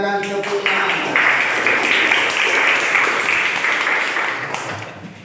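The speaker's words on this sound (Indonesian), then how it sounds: "silakan tepuk tangan." Students in a school physical education class break into a burst of applause lasting several seconds that fades toward the end. A voice speaks just before the clapping starts.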